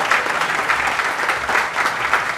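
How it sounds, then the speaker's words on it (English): A crowd gathered at a groundbreaking for a housing project applauds a pastor, a steady, full wash of clapping with no voices over it. "please join me for one more round of applause for Reverend Lusk"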